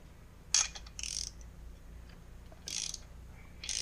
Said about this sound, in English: crank down the spark plug.